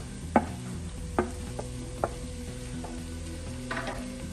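Capsicum fries and is stirred with half-cooked cabbage in a pan for restaurant-style Chinese fried rice. A steady sizzle runs underneath, with several sharp knocks and scrapes of the stirring utensil at intervals.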